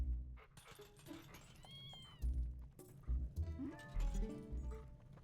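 A cat meows repeatedly in Zelda Twilight Princess, several close, wavering calls in quick succession over a low, rumbling game backdrop.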